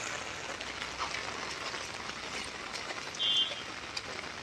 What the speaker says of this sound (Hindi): तीन दिन से लगातार बारिश हो रही है।